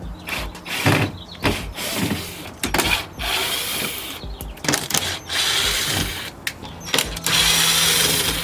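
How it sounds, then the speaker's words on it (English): A power tool backs screws out of a car's side skirt extension in loud, close bursts of whirring and ratcheting, broken by short pauses and handling clatter. "I'm gonna go ahead and remove those screws and then see if I can get this off"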